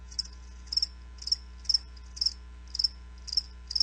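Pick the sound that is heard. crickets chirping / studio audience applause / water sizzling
crickets chirping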